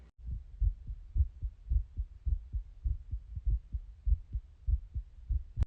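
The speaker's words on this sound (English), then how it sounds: "listen to my heartbeat with me" A human heartbeat thumps close and low in a steady rhythm of about two dull beats per second, continuing evenly for several seconds.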